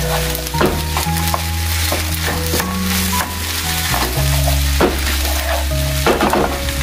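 Village-style fried rice with squid is tossed and stirred in a sizzling pan, a loud steady sizzle broken by repeated scraping clatters of the spatula against the metal, close and without talk.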